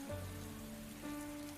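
Steady rain falling in the video game Atelier Ryza 2, a soft continuous patter spread evenly across the whole stretch, with faint tonal game music underneath and no voices.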